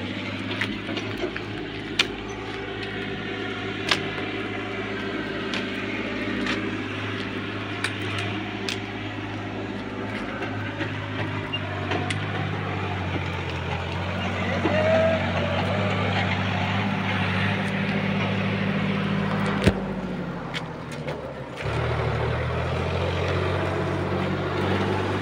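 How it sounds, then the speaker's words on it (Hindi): Engine of a tractor hauling bricks on a village road, a steady low rumble throughout with a few sharp clicks and knocks, close and fairly loud. "लेकर जा रहे हैं ट्रैक्टर पे ईटा"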